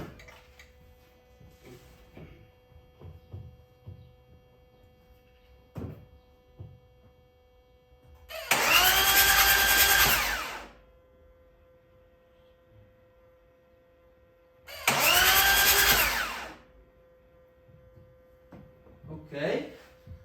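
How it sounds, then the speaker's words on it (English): A freshly installed 300 bhp engine in a BMW E92 cranks on its first start attempts in two close, loud bursts of about two seconds each, separated by quiet mains hum and small handling noises. "So I'm going to try and press the start button again."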